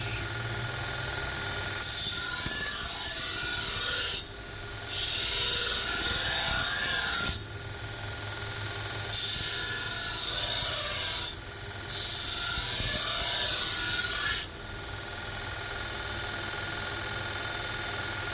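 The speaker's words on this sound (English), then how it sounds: "I will sharpen each side back and forth to make sure that I keep the center of the edge" A damaged Dalstrong knife edge is drawn back and forth across a sharpening stone in long, even rasping strokes, four sustained passes separated by short pauses, close and steady.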